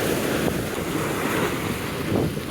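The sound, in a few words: strong water current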